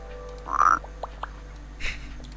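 Frog croaks in the puzzle game Rusty Lake Paradise: a loud, close croak followed by a few short softer calls, then a brief burst, with no talking over it.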